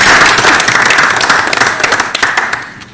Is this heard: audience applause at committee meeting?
yes